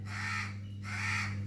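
A crow caws twice from a nearby branch, two loud harsh calls separated by a short pause, over a steady low electrical hum.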